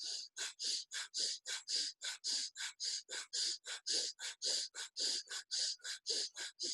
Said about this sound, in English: we'll begin with the breath of fire. Forced exhales out through the nose.